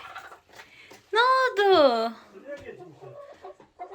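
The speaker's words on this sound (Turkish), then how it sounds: "Tavukların bir baksana hepsi birbirine girmiş" A hen's drawn-out, squawking cackle near a laying spot rises loudly for about a second, with softer clucks and background chatter from people nearby before and after.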